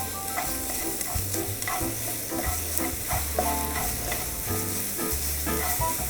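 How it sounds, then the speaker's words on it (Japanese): Scallions and ginger stir-frying in oil in a Sichuan restaurant kitchen, a steady loud sizzle broken by repeated scrapes and clanks of a spatula stirring through the pan. "まずこの段階でネギと生姜を炒めて香りを出してあげます"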